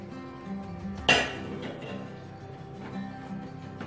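A single sharp clink of dishes rings out near the start as a fruit crumble is set down on a baking tray, followed by quiet kitchen handling noises.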